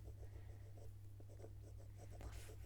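Coloured pencil scratches softly across paper in short repeated strokes, a faint, close, steady shading texture with no talk.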